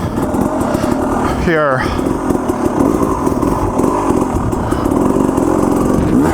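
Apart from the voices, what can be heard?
enduro motorcycle throttle double blip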